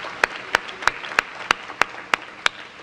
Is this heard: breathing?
no